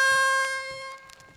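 A single sustained note on a chromatic harmonica, a clean steady tone held for about a second before fading, close and alone.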